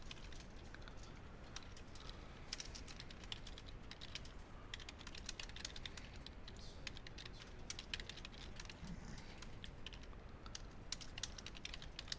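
Rapid, steady typing on a computer keyboard while writing a feedback comment, with close, even key clicks continuing alone throughout.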